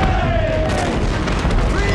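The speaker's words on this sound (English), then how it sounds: "Now her 100 guns let loose." HMS Victory's broadside cannon fire roars out from her 100 guns at the Battle of Trafalgar, at close quarters beside the French battleship Redoutable. It forms a loud, sustained rumbling barrage with shouting voices mixed in.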